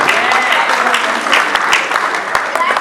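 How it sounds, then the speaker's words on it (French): Dinner-party guests in a hall clap together in a dense, loud wash of many hands, steady throughout with scattered sharper claps standing out close by. "Applaudissez pour vous-même."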